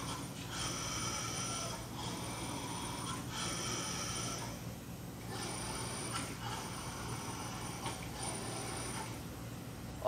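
A Weinig VarioRip 310 industrial rip saw for lumber runs with a steady loud mechanical roar and hum, broken by periodic rising and falling passes as boards feed through, with no talking.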